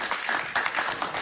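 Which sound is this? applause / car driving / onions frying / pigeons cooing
applause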